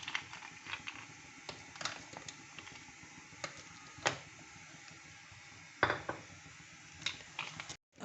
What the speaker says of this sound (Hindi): ये इसमें मैं बर्फ़ डाल रही हूँ।